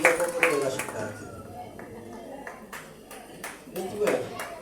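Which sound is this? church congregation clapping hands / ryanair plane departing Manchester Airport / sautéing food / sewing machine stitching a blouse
church congregation clapping hands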